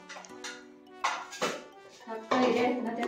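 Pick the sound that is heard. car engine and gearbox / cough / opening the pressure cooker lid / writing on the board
opening the pressure cooker lid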